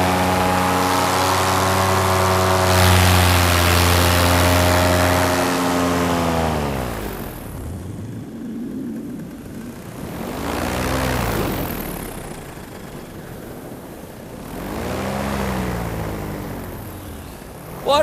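A Flat Top paramotor engine hums loudly in flight, then fades and surges in repeated swells as the pitch shifts, sounding as though it passes close by and pulls away.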